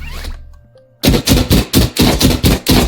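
Rapid gunfire from a first-person shooter built in Dreams on PS4, set off with the R2 button: after a brief fading tone, eight loud, evenly spaced shots follow in quick succession, close and alone.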